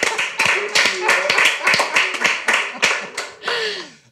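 Clapping from the audience of an acoustic music studio show, heard as a run of sharp, fairly regular handclaps with a voice faintly underneath.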